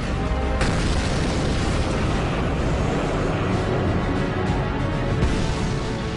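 A dense, sustained roar of broadband noise with a sharp burst early on, like the rumbling aftermath of a loud wartime explosion during tank warfare.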